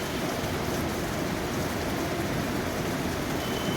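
Steady rain pours down on Dhaka in a dense, even hiss, drops pattering on surfaces throughout, with no voices.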